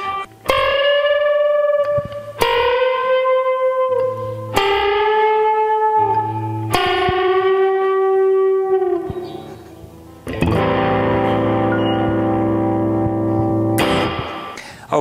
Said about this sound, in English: the intro, which is repeated throughout the song, the lead guitar part